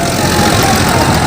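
Many tractors at a farmers' rally, their engines idling together in a loud, steady, dense rumble close by, with no clear voices above it.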